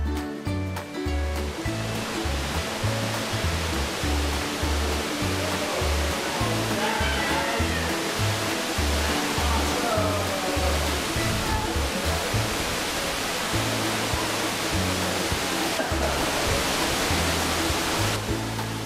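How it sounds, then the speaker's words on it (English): A 100-foot underground waterfall roars at the end of the Secret Caverns cave system in Howes Cave, New York, a dense, constant rushing wash filling the space, with faint indistinct voices and a rhythmic low thumping beneath it. "the crown jewel of this system is the 100-foot waterfall that lies at the end."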